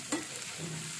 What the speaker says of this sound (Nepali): हेर्नुहोस्, अब एकछिन मजाले भुट्ने